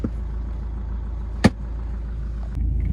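Nissan GU Patrol driving, a steady low cabin rumble of the engine and road with a single sharp click or bump midway, heard from inside the vehicle with no talking.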